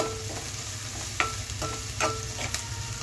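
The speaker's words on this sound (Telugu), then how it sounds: "క్యారెట్లను బీన్స్ని ఉడికిలేదు, ఇలాగ ఫ్రై చేస్తున్నాను." Carrots and beans stir-frying in oil in a pan for vegetable fried rice, a steady low sizzle broken by a few sharp scraping stirs of the spatula, close and moderately quiet with no talk.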